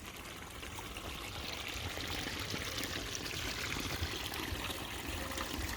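Water flows steadily through a pond drain-off pipe that runs under a woodland path. It makes a constant, even rush with no breaks and no voices.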